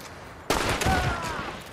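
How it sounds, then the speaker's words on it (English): Video game gunfire: after a quiet start, a sudden loud burst of rapid shots erupts and rings on with echoing, rattling tails. "I started shooting at the guy."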